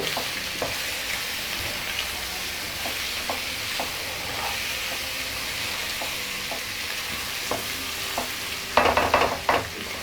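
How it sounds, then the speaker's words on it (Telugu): Eggs fry with onion and masala pieces in a pan while a spatula stirs them, producing a continuous close sizzle, regular tapping scrapes, and a louder burst of scraping near the end, with no talking. "ఇవన్నీ బాగా కలిపి ఫ్రై చేయాలి."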